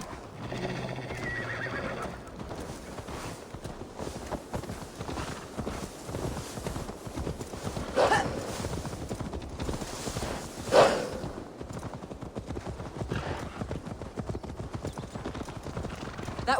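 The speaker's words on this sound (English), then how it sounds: "Now to deliver Magni his horse" A horse in the Assassin's Creed Valhalla video game whinnies and its hooves clip-clop steadily across ground, with brief louder snorts or neighs standing out over a constant background wash of game ambience.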